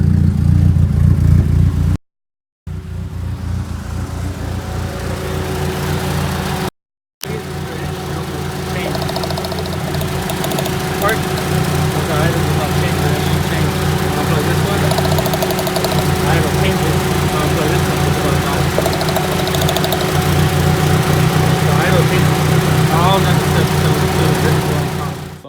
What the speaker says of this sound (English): running really rough, and I had a code for a misfire on cylinder 2